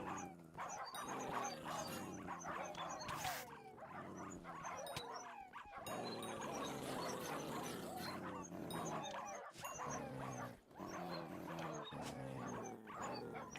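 Pups in Hypixel Skyblock yip and bark repeatedly in quick, overlapping bursts, fairly faint, amid busy game effects.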